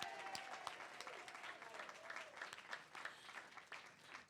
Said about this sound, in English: Can we give a round of applause to Miss Wells?